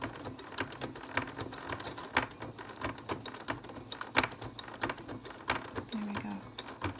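A sewing machine stitches slowly through sequined fabric for a doll bag, its needle ticking in an uneven, close rhythm of sharp mechanical taps.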